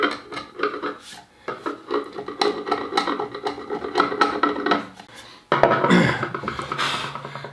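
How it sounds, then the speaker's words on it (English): Dried glue squeeze-out being chipped and scraped off a solid wooden guitar body, rapid rasping strokes and scratches in uneven bursts, close and crisp, with a sharper scrape near the end. "We need to chip away the glue spill out or squeeze out."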